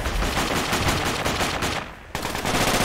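Rapid bursts of automatic gunfire crackle loud and dense in a squad-based shooter game, with a brief lull before the shooting resumes.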